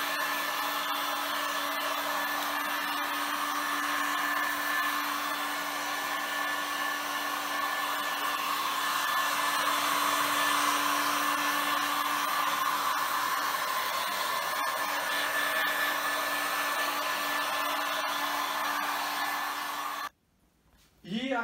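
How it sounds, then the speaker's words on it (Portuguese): A potent hair dryer blows steadily and loud for about twenty seconds on a plasticine lion sculpture being smoothed, then cuts off abruptly near the end. "Se tiver um secador bom, também potente, dá para usar."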